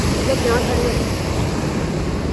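A small waterfall, called a mini Niagara Falls, gives a dense, constant roar of rushing water, loud and close, with a brief voice faintly under it.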